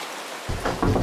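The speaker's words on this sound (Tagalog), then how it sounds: "Umuulan na oh." Rain falls steadily as a dense, hissing wash of drops that suddenly thickens and grows louder partway through.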